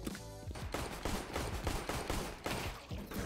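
Rapid gunfire in a Counter-Strike match running an RPG mod, a dense stream of loud, close shots in quick bursts, with no talk.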